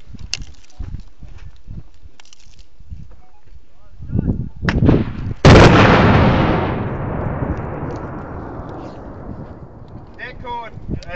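Detonating cord fired in an outdoor explosives demonstration: a sharp, loud blast followed by a long rumbling, fading roar, preceded by scattered clicks and faint voices, with wind noise on the microphone.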